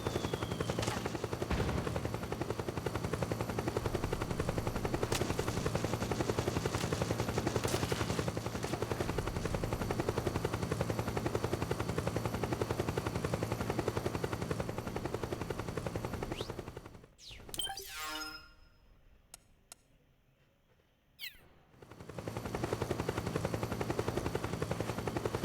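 A helicopter in the video game Metal Gear Solid 4 drones steadily and loudly with a thick rotor hum, suddenly cutting out for a few seconds near the end before the roar returns.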